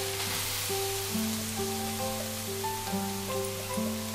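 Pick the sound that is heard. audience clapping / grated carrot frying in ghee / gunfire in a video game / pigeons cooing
grated carrot frying in ghee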